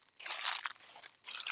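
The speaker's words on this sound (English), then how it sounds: "A lot of crunchy leaves underfoot" Dry crunchy leaves crunch underfoot on a walk in the Pennsylvania countryside near Punxsutawney, two short close bursts of crackling steps separated by a brief pause.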